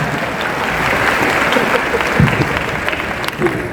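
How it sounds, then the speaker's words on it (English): A large university audience at a freshers' welcome service claps loudly and continuously, a dense, sustained wash of applause that holds steady throughout. "The faster you clap, the faster it comes."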